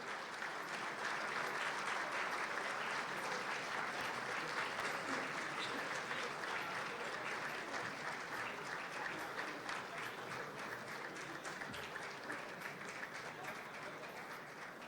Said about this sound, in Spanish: Con un aplauso a Alberto Fernández, nuestro principal orador en la jornada de hoy.